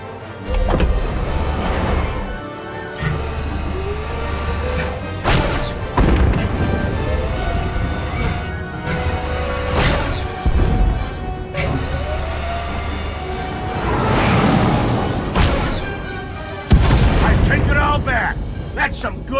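Starship weapons fire and explosions in the video game SWTOR, a dense, loud space battle of sharp bursts, whines and rumbling blasts over steady engine drone, with game voices speaking over the action.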